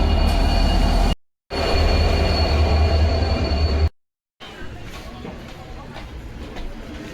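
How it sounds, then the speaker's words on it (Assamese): A passenger train pulls into a station in Assam, its steady rumbling roar and wheel noise filling the air, then easing off into quieter station ambience. "ট্ৰেইন আহি গ'ল"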